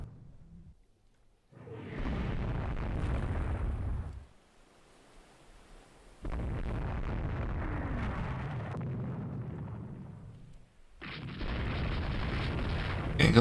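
Torpedoes striking a warship in the naval strategy game Rule the Waves 3, heard as three long, heavy rumbling blasts with roaring low tails, separated by brief quiet gaps.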